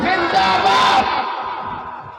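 A large gathering at an Islamic religious address answers the takbir call with a loud, massed chant close at hand, the roar holding strong and then easing slightly as it fades out.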